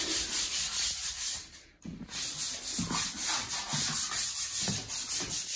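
Steady rhythmic sanding on a wooden log for a handmade log futon, a rough abrasive rubbing in back-and-forth strokes, close up with one brief pause.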